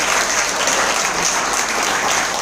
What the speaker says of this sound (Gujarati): તો એ લોકો માટે એક જોરદાર કરા તો તાળીઓ વગાડો.